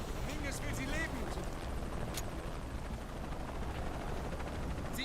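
Helicopter in the video game Shadow of the Tomb Raider, a loud continuous rotor roar filling the scene with a few sharp bursts on top, while German voices talk over it.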